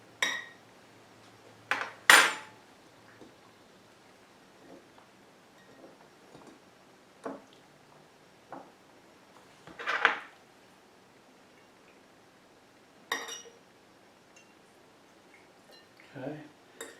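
Boiled eggs and beet slices being placed into a glass jar for sugar-free pickled eggs, a handful of separate clinks and soft knocks spaced out over quiet stretches, near and fairly light, without talk.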